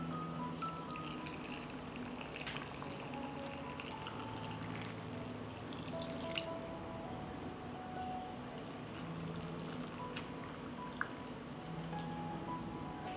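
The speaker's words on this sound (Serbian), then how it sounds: "I sada ću u svaku teglu sipati vodu." Water pours steadily into glass jars of plums sweetened with sugar, a soft continuous trickle and splash that runs close by at low volume, with a faint clink near the middle.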